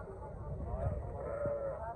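Lambs bleating nearby amid a crowded livestock market murmur in Bishkek, Kyrgyzstan, with people talking in the background.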